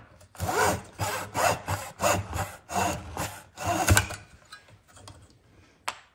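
A hand saw cuts through wooden trestle bents for an On30 narrow-gauge model railroad swamp trestle, with about eight rhythmic rasping strokes, then slower scrapes and a final sharp tap. No voices.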